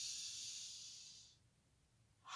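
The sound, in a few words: breathing in and out during neck circles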